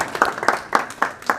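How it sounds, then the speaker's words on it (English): A few people in a keynote audience clap in a sparse, slow rhythm, with roughly five distinct claps, close by and moderately loud. "A round of applause"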